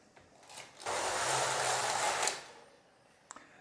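A Passap Duomatic 80 knitting machine carriage makes one smooth, rushing, scraping pass across the needle bed while casting on. The sweep lasts about a second and a half and is fairly quiet, followed by a couple of small clicks.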